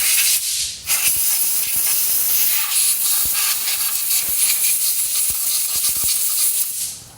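Compressed air blasts continuously onto the front brake parts of a 2015 Jeep Patriot during a pad replacement, a loud, close, steady hiss lasting about seven seconds with faint clicks underneath.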